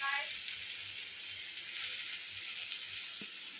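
Capsicum (shimla mirch) sautéing in a pan gives a steady, close sizzle and hiss of frying vegetables, continuous throughout with a faint stir or clink near the end and no talking.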